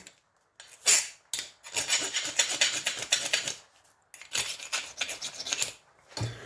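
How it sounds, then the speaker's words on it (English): A tool scrapes solid brass taken from an electrical breaker, giving harsh rasping strokes in two long bursts separated by brief pauses, close and fairly loud, with no voices. "Let's scrape it here and show you."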